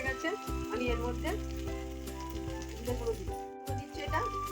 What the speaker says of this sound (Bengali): টমেটোটা আমার ভাজা হয়ে গেছে, আদাটাও কষা হয়ে গেছে।